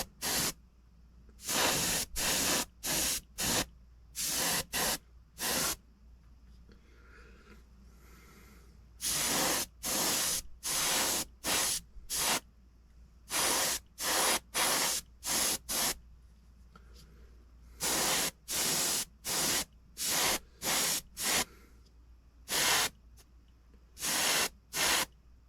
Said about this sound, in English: And back to spraying again